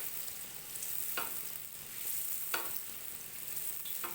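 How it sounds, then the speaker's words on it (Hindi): Khajla, a flaky sweet pastry, frying in hot oil in a home kitchen: a steady, even sizzle throughout, with occasional soft scraping strokes as oil is spooned over it. "इसके ऊपर हमने ये इस तरह से ऑयल डालते रहना है ताकि ये फूल जाए अच्छी तरह।"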